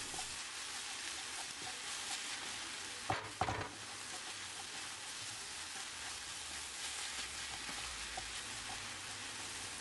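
Pepper paste with spices, including a little turmeric, fries in a pan while being stirred. A constant low sizzle runs throughout, broken by one brief clattering scrape partway through.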